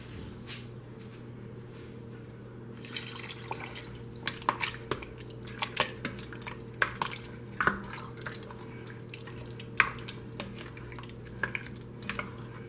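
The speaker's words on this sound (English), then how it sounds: "Okay, so I'm going to put another can of water in there." Water poured from a can into a pot of okra stew, a soft trickling wash broken by scattered splashy drips, quiet and close.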